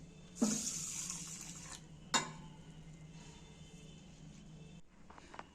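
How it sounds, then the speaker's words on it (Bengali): Lentils being rinsed clean in water in a kitchen, with a clatter of a bowl or utensil near the start, a sharp knock partway through, and then steady sloshing and trickling of water close by. "এবার ডালটা যে নিয়েছি ডালটাকে আমি ধুয়ে নিচ্ছি পরিষ্কার করে"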